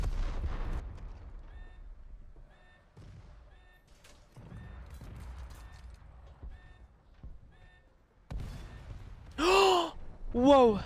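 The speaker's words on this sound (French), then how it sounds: "quel sagouin qui me tire dessus là." Gunfire aimed at the player in the War Thunder video game comes as scattered, muffled shots and booms, followed by louder whooshing bursts near the end.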